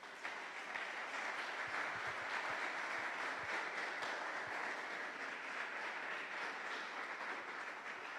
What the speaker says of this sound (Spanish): ¿Usted cree que Dios merece un aplauso por esa frase tan hermosa?